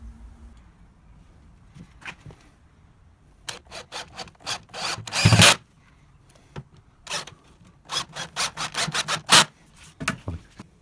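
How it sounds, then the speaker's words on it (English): Bursts of a power drill drilling and countersinking holes, then driving 2-inch screws through an end panel into wood, with short driving pulses and pauses between, close up amid light workshop noise. "I'm going to drill and countersink some holes from the outside here and then drive some 2-inch screws"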